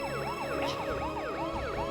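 An ambulance siren wails in a steady rising and falling sweep, somewhat distant and moderately loud over a low traffic rumble, during a street emergency scene in an Indonesian drama.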